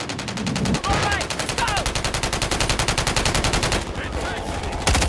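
Rapid, sustained automatic gunfire from a Call of Duty match rattles on for several seconds as a near, loud, steady burst with a brief pause midway.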